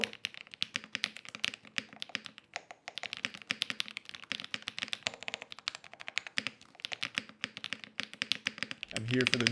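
Fast, continuous typing on a mechanical keyboard, a close, steady clatter of bright key clicks and thocks running throughout.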